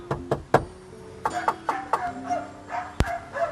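Knuckle knocks on a soundproofed car body panel give a series of short, dull, damped thuds in an uneven rhythm, followed by one sharper, louder knock near the end, heard close up.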